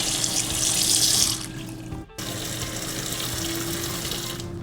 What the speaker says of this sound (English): So now I'm washing my yams.